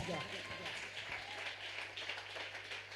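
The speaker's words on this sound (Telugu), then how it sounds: "కొట్టండి చప్పట్లు గట్టిగా." A church congregation clapping at a sermon, sustained dense applause throughout, moderately loud, with the preacher's voice over the start.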